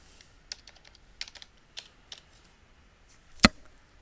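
Computer keyboard typing during data entry, a sparse series of light key clicks in small clusters, followed by one sharper, louder keystroke near the end, all close and with no talking.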